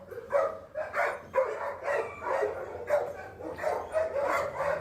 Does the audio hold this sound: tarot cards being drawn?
no